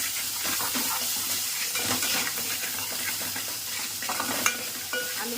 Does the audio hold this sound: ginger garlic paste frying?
yes